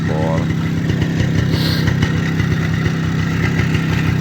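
A Minsk motorcycle engine in good condition runs and revs with a steady throbbing pulse up close, while a voice talks over it.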